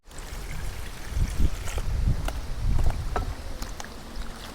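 Water poured over separated gongura leaves in a vessel for washing, a close splashing gush with sloshing as the leaves are stirred, no talk.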